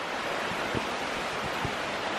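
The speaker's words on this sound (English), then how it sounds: "Oh yeah, that's definitely a waterfall." Steady rushing of a waterfall in Michigan's Upper Peninsula, a dense continuous roar with faint low thumps, heard alone without voices.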